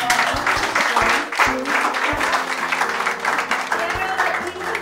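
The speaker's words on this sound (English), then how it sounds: "give her a big round of applause" Applause from a crowd at a chamber of commerce mixer hosted at an office suites venue in Ahwatukee, continuous clapping with talk and voices mixed in under it.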